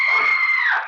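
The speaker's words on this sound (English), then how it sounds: "It was at that precise moment that I heard the scream." A single drawn-out scream from a private boat dock in an old-time radio mystery drama, high and sustained for about a second before sliding down and tapering off, heard alone.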